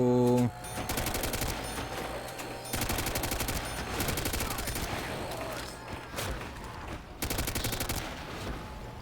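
Rapid automatic gunfire rattles in long sustained bursts with short pauses between them during a zombies round of Call of Duty: World at War, loud and dense with in-game effects underneath.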